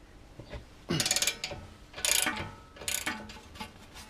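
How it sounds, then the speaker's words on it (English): Half-inch drive ratchet with a 19mm socket working on a tie rod end of a 2005 Acura TL, three short bursts of rapid clicking separated by pauses, close and without speech. "We're going to use our 1/2" drive ratchet with the 19mm socket."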